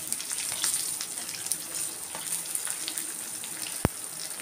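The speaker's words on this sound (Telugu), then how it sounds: "ఇది కూడా వేసి బాగా వేయించుకోవాలి" Dried red chillies fry in a pan for mint pulihora, a continuous close crackling sizzle with scattered pops and one sharp utensil tap near the end, with no talking.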